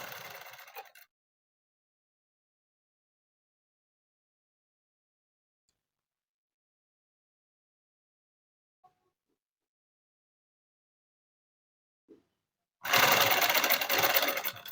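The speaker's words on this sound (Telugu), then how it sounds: "నేను చివరన కుట్టు వేస్తున్నానండి" A sewing machine stitching a dress made from an old saree, running in a brief burst of rapid whirring, then falling silent for a long pause before a second, louder run starts near the end.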